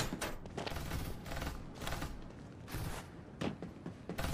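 Repeated bursts of gunfire and explosive booms in the video game FairLight 84, dense and continuous with rhythmic heavy shots throughout.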